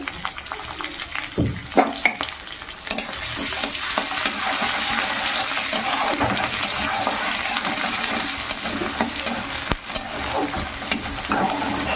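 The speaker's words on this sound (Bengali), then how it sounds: "তেলে দিয়ে দেবো থেতো করে রাখা রসুন আর এখানে আদা আদাও থেতে করে নিয়েছি" Crushed garlic and ginger dropped into hot oil for a chickpea greens dish, a bright steady sizzle with stirring clinks and a few sharp spatters near the start, close and continuous without speech.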